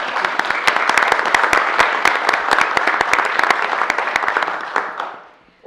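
A room of people at a city council meeting claps for a group of DAR ladies: dense, even applause for about five seconds that then quickly fades out.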